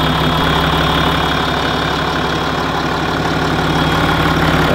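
A Range Rover Sport engine with an air leak idles steadily throughout, a low continuous rumble with a faint rhythmic knock, close and fairly loud, with no voices.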